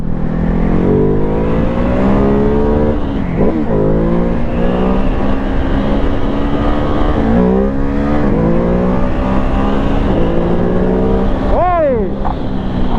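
A Ducati Hypermotard 950 RVE motorcycle engine pulls loudly and steadily from a rider's onboard position, its pitch climbing through the gears with quick shifts, under constant wind roar and occasional speech.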